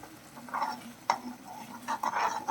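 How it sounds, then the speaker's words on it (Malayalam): A spoon stirs a mackerel curry in a pan after salt is added, with soft scraping and clinking strokes over a faint bubbling sizzle, close and quiet, with no talking. "ഈ സമയത്ത് നമ്മൾ ഉപ്പും കൂടി ചേർത്തിട്ട് ഒന്ന് ഇളക്കി എടുത്തിട്ടാണ് അടച്ച് വയ്ക്കാൻ പോണത്"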